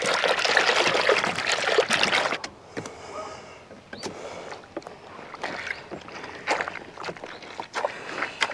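Water trickling and splashing while loofah sponges are washed in warm soapy water, with a brief rush followed by irregular drips, sloshes and scrubbing sounds close by.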